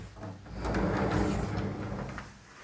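A sliding door in a house rolls along its track, a sustained rumbling slide lasting about two seconds at moderate loudness, with no speech over it.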